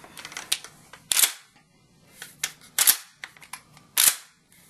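Mossberg 500 20-gauge pump shotgun worked through a safety check: a series of sharp metallic clacks and ratchets of the action, close and loud, in about three bursts with short gaps.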